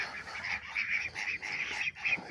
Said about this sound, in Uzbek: Ingichka o'rdak va qilloq o'rdaklar.